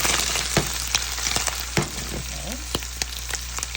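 Ackee and saltfish sizzle and fry in a pan while being stirred and flipped, with a loud steady crackle broken by sharp scraping stirs. A brief word is spoken.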